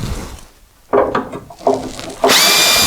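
A power tool bites into the old outer floor metal of a Triumph TR4, with short rasping bursts after a quiet pause and then a steady, loud, high grinding cut at the end.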